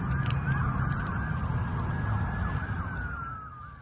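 Emergency vehicle sirens wail during a large emergency response at a mall, a continuous rising and falling tone heard from a moderate distance over a dense rumble of traffic and crowd, with a few sharp clicks near the start.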